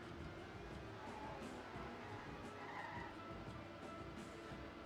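Dense, roaring Trackmania racing noise from NASCAR-style cars, with steady engine drone and skidding tire noise throughout a multi-car knockout event; no distinct single impact stands out, so the crash blends into the continuous loud mix.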